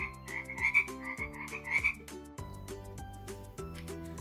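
Frog croaks ring out in a steady, repeating series, close and clear with no other sounds beneath them.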